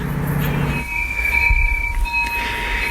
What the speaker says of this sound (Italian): si sente frenare adesso, non so se lo sentite, il treno